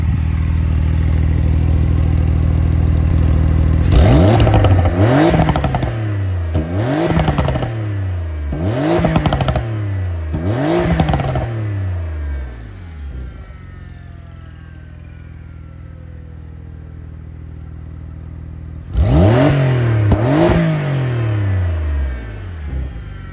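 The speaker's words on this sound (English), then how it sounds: "we are going to try a quick rev in sport mode and then Sport Plus" A tuned Porsche 992 Carrera S with sport catalytic converters revs hard in sport mode, five quick rising blips in a row, then a pause with a fading tail before one more sharp rev, loud and close.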